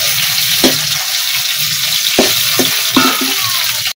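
Shing fish fry loudly in a pan, a close, constant crackling sizzle broken by several knocking clunks as the pieces are turned over.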